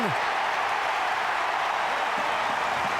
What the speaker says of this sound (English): The roar of the crowd tells you the result